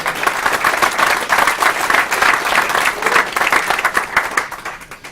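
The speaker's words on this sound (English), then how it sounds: "Big clap, please." A conference crowd claps for a presenter coming on stage, loud, busy applause with distinct individual claps that holds steady, then tapers off toward the end.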